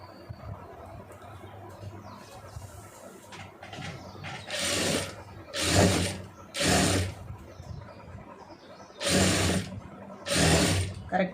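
A sewing machine stitches a designer sleeve in short, whirring bursts, five runs of rapid mechanical clatter after a quieter start, close by and separated by brief pauses.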